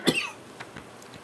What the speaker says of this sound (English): I didn't want to cough near you.